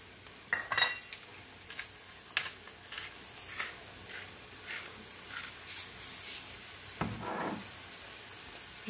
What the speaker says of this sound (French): Je vais faire cuire tout ça avec un peu de poivre noir et un peu de sel aussi.